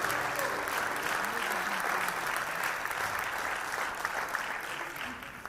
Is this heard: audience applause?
yes